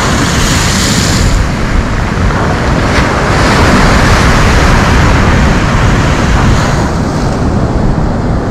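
Stormy sea surf pounding a pebble beach at Svirsky beach in Lazarevskoye, Sochi, a loud continuous roar of breaking waves with gusting wind buffeting the microphone throughout.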